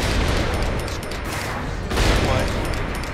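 Gunfire in the Saints Row IV video game, a dense, continuous barrage of rapid shots with a louder burst partway through, heavy and close throughout.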